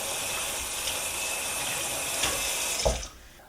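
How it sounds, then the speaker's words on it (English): Tap water gushes steadily into a sink while a raw turkey is rinsed, a continuous close-up splashing that briefly thickens with a louder splash near the end before the flow tapers off. "I like to give it a quick rinse"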